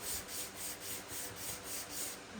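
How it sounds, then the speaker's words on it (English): Steady back-and-forth sanding on wood to remove rough spots before painting, a soft rhythmic rasp repeating about every quarter second, fairly quiet and close. "we're doing a little bit of sanding."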